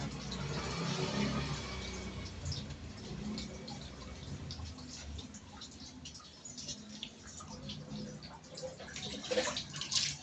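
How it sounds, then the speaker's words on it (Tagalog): Tap water runs steadily while a small dog is bathed, a continuous close hiss of flowing and splashing water with occasional drips and clatter, fairly faint and with no talking. "Okay, talaga tubig na, Witty."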